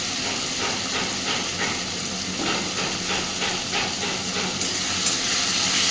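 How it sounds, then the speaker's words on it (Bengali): Onions and tomatoes fry in a pan while cooking chicken kosha, a steady close hiss of sizzling oil with faint rhythmic scraping, no talk. "এবার এগুলোকে একটু ভেজে নেব।"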